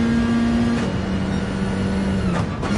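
A Peugeot race car engine in a racing video game drones steadily and thinly like a hairdryer, a continuous loud whine with a slight pitch shift partway through and a couple of brief surges near the end, alone without talk.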